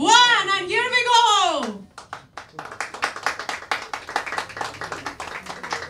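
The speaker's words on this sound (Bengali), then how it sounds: "একটা জোরে হাততালি হয়ে যাক for the team ভূতপূর্ব" An audience at the poster launch for the Bengali anthology film Bhutpurbo breaks into lively clapping after a brief animated voice, the applause sustained and fairly close for several seconds.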